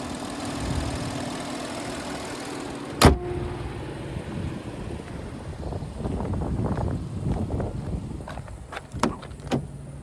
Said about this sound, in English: So there's that turbo 3-cylinder.